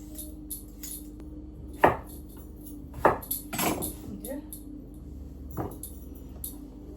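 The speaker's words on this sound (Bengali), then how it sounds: "আলু কেটে নিলাম" A knife cutting potato: a few separate sharp chops and clicks against a board, close, with quiet gaps between them over a faint background hum.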